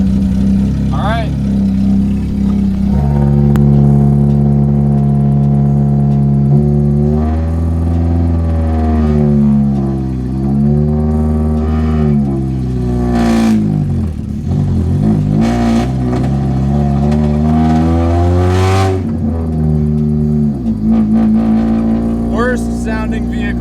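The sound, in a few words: Sol car driving, engine running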